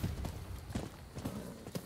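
Horse hooves clip-clop in a steady, even rhythm of about four footfalls per second at moderate volume, heard as a mount travels in Rise of the Ronin, a samurai-era action game.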